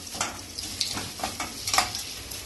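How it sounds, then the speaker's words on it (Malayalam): A rice mixture stirred in a hot pan, giving soft scraping and sizzling strokes in an uneven rhythm with brief clinks, close and fairly quiet. "ഇളക്കി മിക്സ് ചെയ്യാം"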